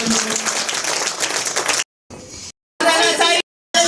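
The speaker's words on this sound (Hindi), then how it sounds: "बोला यीशु मसीह की जोर से ताली बजाने" A church congregation claps loudly in praise, dense and close, with the sound broken by abrupt silent cuts and resuming in short bursts amid voices.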